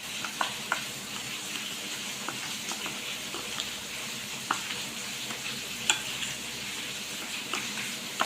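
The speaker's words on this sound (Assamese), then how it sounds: "লোৱা চেনিখিনি এইখিনি ভালকৈ মিলাই ল'ম।" Sugar being mixed into a rice-flour cookie mixture, a steady gritty scraping with soft irregular clicks of the spoon against the bowl, close and fairly quiet, with no one talking.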